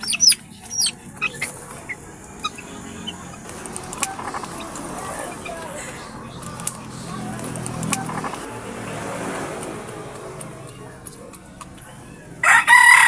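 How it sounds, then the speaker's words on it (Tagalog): A red junglefowl chick's rooster-like crow and clucks in a rural setting, with faint background noise and a louder burst of fowl calls at the end. "Kumusta ang ating mga palahing manok labuyo dyan mga kabukid?"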